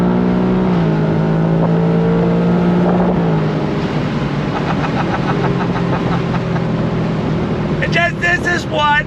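A 2024 Ford Mustang GT's engine climbs steadily on throttle, a loud continuous rising roar that swells and then settles, with a few sharper rattling bursts near the end.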